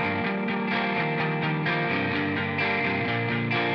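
Clean electric guitar blended with a small synth part in a band mix intro, a dense and steady wash of chords and texture at even loudness throughout, with no voices.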